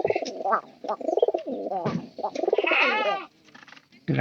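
Pigeons cooing close by, several soft throaty calls overlapping in a steady pulsing rhythm with brief pauses between phrases.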